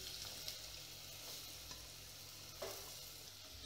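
Vegetables for baingan bharta go into a hot pan with garlic-ginger paste and green chillies, producing a steady, close hiss of sizzling with a few soft stirring knocks.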